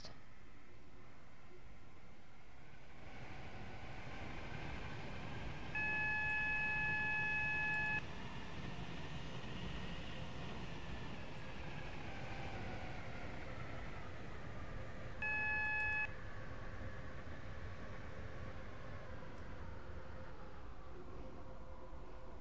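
A steady, low rumble of a moving Airlink train in the Roblox game Stepford County Railway runs throughout, with two electronic beep tones sounding briefly over it.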